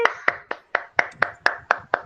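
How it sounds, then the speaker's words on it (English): Sharp, evenly spaced claps from a nursery class, nine crisp beats in about two seconds at a brisk steady rhythm, close and distinct, like a group clapping in unison. "I want to see everyone to clap"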